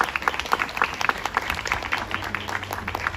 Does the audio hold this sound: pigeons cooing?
no